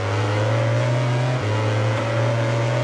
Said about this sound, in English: I can hear that Ducati.